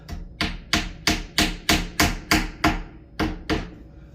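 Glued wooden skewer hammered into a hole while repairing a badly installed deadbolt: about ten sharp, close knocks in an even rhythm, each blow ringing briefly before the next.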